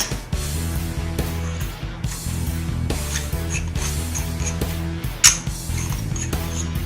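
An aluminum shaving-brush case from a stainless steel straight razor travel kit being screwed together, giving close, steady metallic ratcheting and rubbing with a few sharp clicks near the end.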